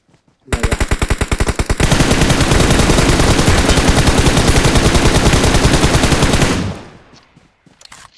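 A loud, sustained burst of automatic gunfire from the mobile shooter PUBG Mobile starts with distinct rapid shots, then merges into a dense continuous roar for about five seconds before cutting off abruptly.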